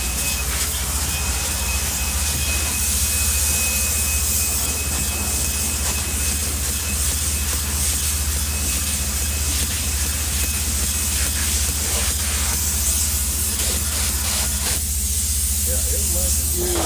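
Insulation-blowing machine filling a tiny cabin, a constant loud airy hiss and whoosh over a low steady motor hum, continuous for the whole stretch with faint voices underneath.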